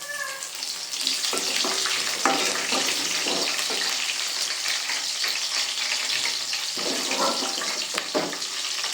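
Green chillies and curry leaves hit hot oil for a tomato bath, giving a loud, steady broadband sizzle and crackle with a few sharper pops throughout, no voices.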